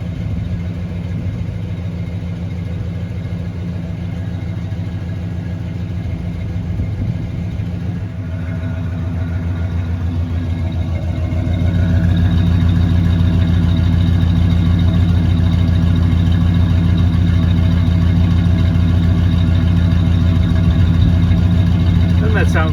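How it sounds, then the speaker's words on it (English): A 1972 Chevrolet Monte Carlo's 350 small-block V8 idles steadily after a cold start, a deep continuous rumble that steps up a little louder and fuller partway through and then holds a constant idle. "gotta love the sound of a small block in the afternoon"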